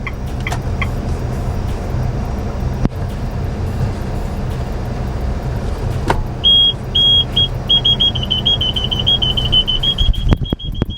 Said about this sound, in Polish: Jest też jakieś symfonia pikania podczas e, parkowania